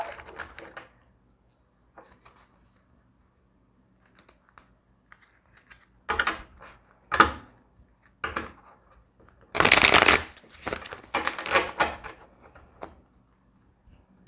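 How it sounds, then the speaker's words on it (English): One World Tarot cards being shuffled close up, with bursts of riffling and slapping card noise separated by quiet pauses, louder flurries near the end. "we are using the One World Tarot. This is what I'm currently shuffling."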